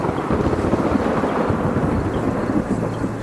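Low thunder rumble used as a sound effect in a Bengali horror audio story, a sustained rolling boom that stays dense and fairly loud throughout without any voice.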